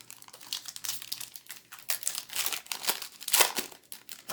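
A 2005 Topps baseball card pack wrapper is torn open and crinkled up close, with continuous papery rustling and crackling bursts and no talk.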